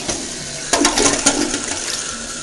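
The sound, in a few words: Kohler canister toilet flushing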